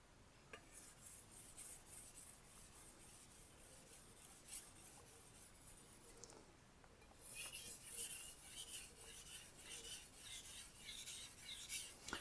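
Knife blade rasped back and forth across a 1000-grit Naniwa Super Stone water stone, a soft rhythmic scraping of repeated strokes, faint and close, swelling louder midway.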